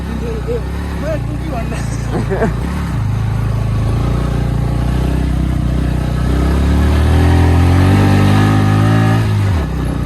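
A motorcycle carrying two riders on a rough road near Siddhalekh in Dhading runs with a loud, continuous engine drone close by, its pitch rising and falling as it labours and revs.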